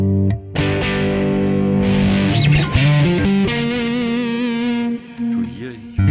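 Distorted electric guitar driven through a Kemper Profiler drive, playing sustained chords and notes with a thick, saturated, effects-laden tone, loud and continuous with short breaks.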